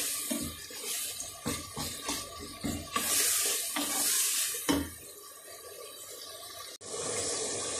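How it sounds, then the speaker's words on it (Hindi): Masala with garam masala being fried and stirred in a pot, irregular scraping and knocking of a spoon over a hissing sizzle, with a brief sharp cut and a steady wash of noise near the end. "मसाला मैंने अच्छी तरह भून लिया है,"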